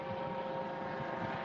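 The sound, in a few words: small helicopter passing overhead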